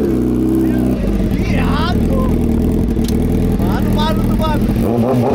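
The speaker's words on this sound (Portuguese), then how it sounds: "Dá aceleradinha pra nós aí." A 2019 Honda CBR 1000 RR sport motorcycle engine rumbles and revs up close while several people talk excitedly over it.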